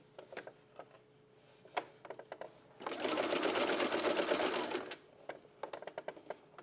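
A sewing machine zigzag-stitches stretch fabric around a curve for a bralette. Scattered clicks and handling come first, then a steady, close, whirring run of about two seconds, then more fabric handling.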